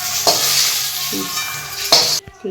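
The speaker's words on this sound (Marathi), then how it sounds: "मिरच्या आणि धन परतून घ्यायचं भाजून छान" Green chilies and coriander seeds dry-roasting in a pan, a loud close sizzle with a few sharp scraping stirs, cutting off abruptly near the end, no voices.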